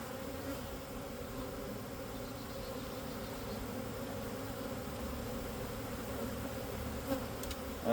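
Package honey bees shaken into a hive give off a steady, dense buzz from a close swarm, continuous and even throughout with no talk.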